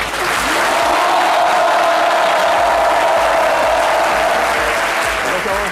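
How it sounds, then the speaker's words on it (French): A studio audience claps steadily and loudly, a dense wall of applause that holds for several seconds with no break, and a faint voice shows through beneath it. "Merci de l'applaudir très très fort."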